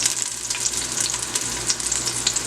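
Garlic sizzles in a hot pan for a Bajan-style oxtail stew, a soft, steady crackle with small popping bursts throughout, fairly quiet and without talk.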